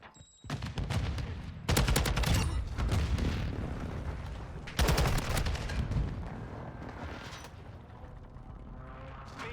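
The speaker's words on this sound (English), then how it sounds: "Friendly nice. airstrike on the way." Airstrike explosions in an online shooter video game, loud overlapping blasts and rumbling gunfire-like bursts that swell at two points and stay dense throughout, with no talk over them.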